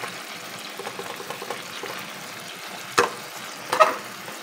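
Pampanga-style beef tapa fries in a pan with a steady, moderate sizzle, broken by two louder crackling spits near the end.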